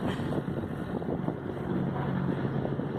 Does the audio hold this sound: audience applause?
no